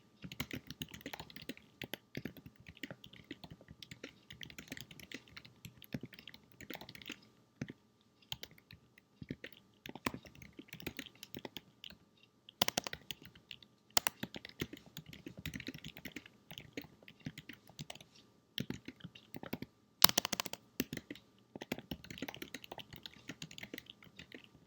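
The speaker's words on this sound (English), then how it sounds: "And then you're going to start typing your Bible verse." Steady typing on a computer keyboard, quiet clicking keystrokes in an irregular run with a few louder taps and brief pauses, close by.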